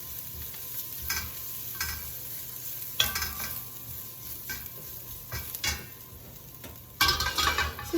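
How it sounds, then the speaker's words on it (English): Mushrooms sautéing in a pan that was just used for cod: a steady soft sizzle with repeated scraping and stirring clinks of a utensil against the pan, louder toward the end. "I'll use the same pan just to saute the mushrooms for the rice."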